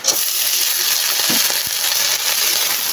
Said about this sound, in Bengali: কালো জিরা দিলাম। দিয়ে নাড়াচাড়া করে তারপর ঢেঁকি শাকগুলো দিয়ে দিব